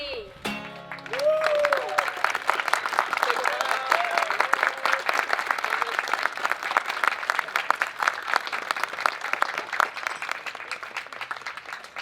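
An audience at a school groundbreaking ceremony applauds fourth graders who just sang, a dense, steady round of clapping filling the room after a brief musical tail, with some voices and cheers mixed in.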